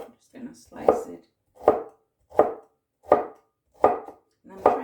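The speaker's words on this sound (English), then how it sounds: "Also gonna not forget my pineapple core here. Just gonna slice it." A knife slices through a pineapple core on a cutting board, giving six evenly spaced firm chops, close and fairly loud, with short quiet gaps between them and no talk.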